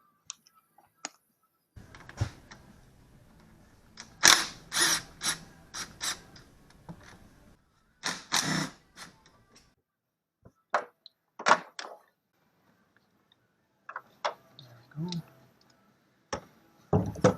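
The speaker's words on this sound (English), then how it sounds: "Now we need to undo this 13 mil bolt and this 13 mil down here." Sharp metallic clicks and ratchet-like taps come in short bursts and scattered single hits as 13 mm bolts are undone on a GM 3.4 thermostat housing of a 2003 Montana, with quiet gaps between and no talking.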